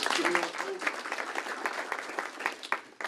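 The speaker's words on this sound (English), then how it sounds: "Give him a round of applause" An audience applauding a university graduate introduced at a panel event, dense steady applause from a crowd, somewhat distant, with voices mixed in and a few sharp knocks near the end.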